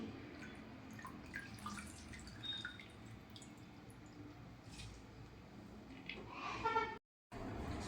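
Water poured over flattened rice (poha) to soak it for a breakfast dish, with close dripping and splashing in a home kitchen. A quieter squishing runs under it, and a brief gap comes near the end.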